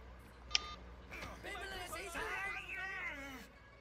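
A single short electronic phone beep from a mobile handset in the Sleeping Dogs video game, sharp and close, followed by someone talking over faint game background.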